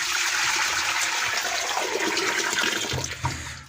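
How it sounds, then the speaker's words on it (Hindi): Water pours from a jug into a pressure cooker on the stove for Kashmiri red lobia, a steady close splashing rush that tapers off near the end with no talk. "तकरीबन 1 जग पानी डालूँगा"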